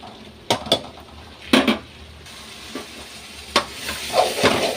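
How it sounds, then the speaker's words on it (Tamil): Chili powder sautés in a pan for a Tamil kara kuzhambu, with a soft sizzle under repeated scraping clinks of a spoon stirring against the metal. "மிளகாத்தூள் வதங்கிடுச்சு நல்லா."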